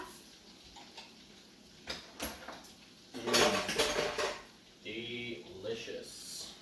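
While herb-crumbed schnitzel is being cooked, a pan is set back on the heat and metal pots and cutlery clink and clatter in short bursts, with a voice talking between the sounds.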